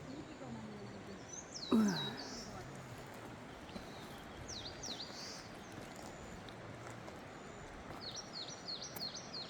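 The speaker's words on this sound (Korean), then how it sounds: "아, 새소리가 정겹습니다. 물소리, 새소리." Birds sing in repeated high chirping phrases over a steady rushing background of flowing water, with a brief low voice near the start.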